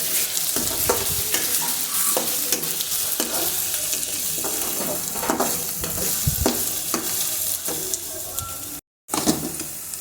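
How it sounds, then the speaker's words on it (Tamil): Green chilli and ginger sautéing in a pan for cauliflower kothu curry, a steady sizzle of frying with repeated scraping stirs of a spatula, close and loud, with a brief dropout near the end. "இது மூணையும் நல்லா இப்போ நல்லா வதக்க விடுங்க நல்லா வதக்கி விடுங்க கலர் சேஞ்ச் ஆகட்டும்"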